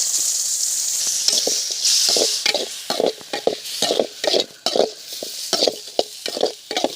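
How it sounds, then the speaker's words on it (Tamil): Onion, tomato and green chili sautéing in hot oil in a pan at a village field cookout, a steady close sizzle broken by repeated rhythmic scrapes and stirs of a spatula. "வெங்காய தக்காளி பச்சை மிளகா மூணுத்தையும் போட்டு வதக்கலாம்"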